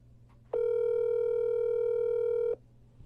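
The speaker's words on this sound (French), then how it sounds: "Voilà, ça sonne, j'espère qu'il va nous prendre." A single steady telephone ring tone on an outgoing call sounds for about two seconds, loud and clean, then stops, with a low hum underneath.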